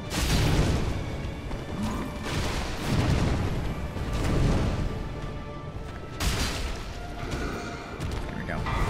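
A boss's explosion attack in the video game Dark Souls 3 lands as repeated heavy booming crashes with rumbling tails, loud and close, alongside combat clatter.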